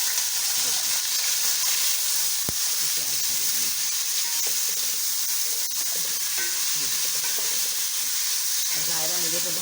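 Onion tipped into hot oil with a tablespoon of cumin seeds, giving a steady, loud, close sizzle and hiss that holds for the whole stretch, with a sharp crackle near the start.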